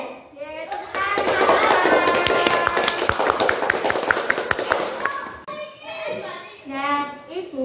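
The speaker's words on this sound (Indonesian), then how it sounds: "Ya, tepuk tangan." Children clap their hands together during an elementary school science lesson, a quick run of sharp claps mixed with excited young voices, then the clapping stops and a voice continues alone.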